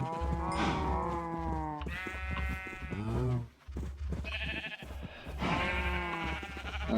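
Minecraft cows in a farm pen, several animal calls in a row with harmonic lowing tones, fairly loud and close, with short gaps between calls and no talking.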